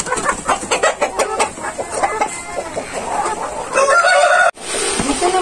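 Ameraucana chickens in a breeder house cluck in quick bursts, and a rooster crows loudly near the end, all close by with no talk.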